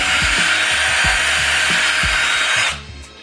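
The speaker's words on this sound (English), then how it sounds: "I'm going to drill hole" A power drill runs continuously, loud and close, boring a hole through the body of a black Lexus IS250 car, with steady whine and rhythmic grinding pulses before it cuts out near the end.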